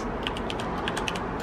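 Rapid clacking keystrokes on a computer keyboard, close and fairly loud, in a quick irregular burst with no talking.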